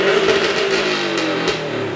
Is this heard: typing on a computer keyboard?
no